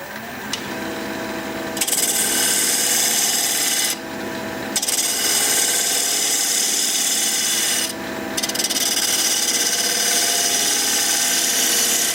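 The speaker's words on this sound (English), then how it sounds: "I picked the speed up to 1100 RPM." Live oak spinning on a wood lathe at 1100 RPM, a loud continuous scraping hiss as the tool cuts, broken by three short pauses where the cut stops and the motor hum carries on.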